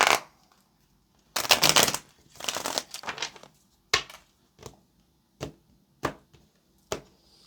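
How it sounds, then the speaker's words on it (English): Tarot cards riffle and shuffle in two bursts, followed by a series of sharp card slaps or taps at regular intervals, close up with no speech. "let's get this last shuffle"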